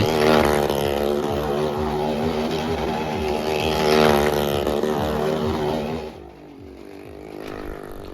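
Motorcycle engine droning loud and steady during a stunt show at the Gazipur trade fair, with harmonic revving that rises and falls, then drops away abruptly near the end, leaving quieter crowd-fair ambience.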